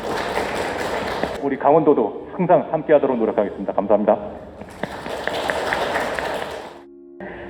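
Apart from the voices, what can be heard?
applause for Professor Kim Seung-hee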